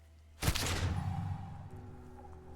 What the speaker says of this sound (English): fire erupts from the gun, and your hand goes numb from the explosion